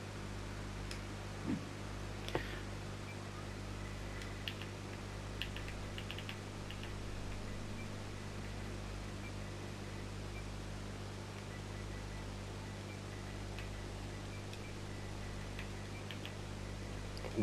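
Typing on a computer keyboard, a steady run of soft, fairly quiet key clicks with a few sharper taps, heard alone over a constant low hum.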